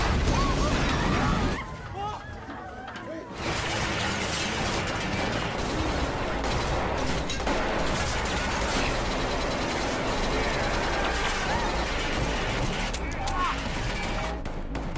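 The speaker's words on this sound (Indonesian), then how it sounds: "Mereka pun akhirnya terpaksa adu tembak dengan para pasukan itu." A gunfight from the Korean series Money Heist Korea erupts in dense, rattling volleys of rapid gunfire with bursts and booms, running almost nonstop after a brief lull, with a voice speaking over the shooting.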